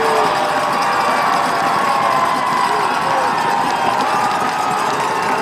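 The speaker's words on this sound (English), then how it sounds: "you can hear the crowd here in the building kind of shaking up here" A football crowd at a Wayzata at Centennial high school game roars steadily inside the building, a dense, loud wash of cheering and shouting voices that holds without a break.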